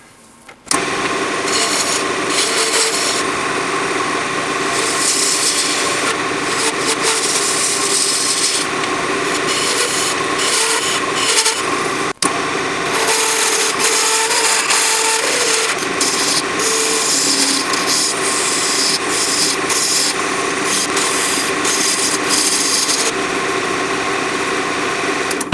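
An antler pen blank spinning on a wood lathe while a gouge cuts it, giving a loud, steady, continuous scraping and rasping sound with one brief sharp knock partway through, and no talking.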